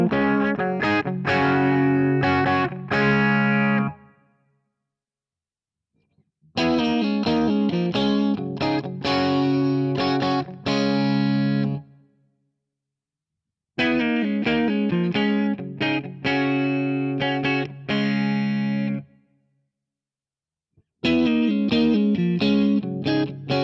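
Ibanez AZ224F electric guitar with the alt switch down playing a distorted chord riff, repeated in four loud phrases separated by short silent gaps.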